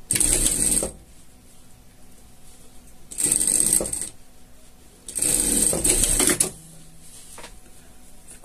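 A sewing machine stitches acrylic blanket for a pet slipper in three loud, close bursts, each lasting about a second, with quiet pauses between them and no talking.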